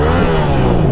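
A Yamaha R7 sport motorcycle with a fully decatted, de-baffled exhaust revs loud and close, a dense throaty engine roar held steady for about a second with no talk.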